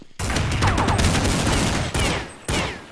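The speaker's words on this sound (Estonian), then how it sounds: "see M4 laseb, see on nii ideaalne hääl" M4 rifle gunfire in Counter-Strike during a tournament final, loud sustained bursts of rapid shots with sharp onsets, breaking off twice before resuming in shorter volleys.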